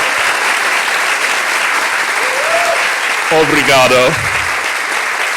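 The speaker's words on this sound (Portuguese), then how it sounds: "aplaude mais, tá pouco, levanta e aplaude" A live podcast audience applauds at a taped interview event, a continuous wash of clapping while a voice speaks briefly over it near the end.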